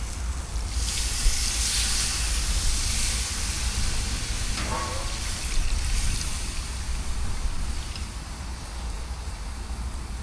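Water poured into a cooking pot over an open fire while preparing Trinidad curry cascadoo with provisions, a steady broad rushing splash and sizzle running continuously and fairly close throughout.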